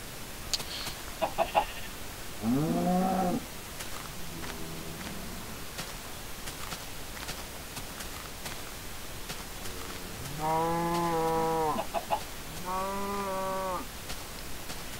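A chicken in a zombie video game makes harmonic clucking calls in two clear bursts, some seconds apart. A constant noisy background fills the gaps between them.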